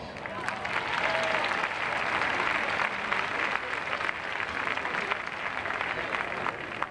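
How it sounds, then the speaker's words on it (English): An audience applauds at a 1986 Detroit No Crime Day gathering, steady dense clapping from a crowd continuing throughout. "Most of our young people deserve a big round of applause."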